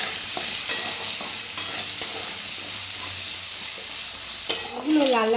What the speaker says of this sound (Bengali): আলুগুলো দিয়ে লাল লাল করে ভেজে নেব।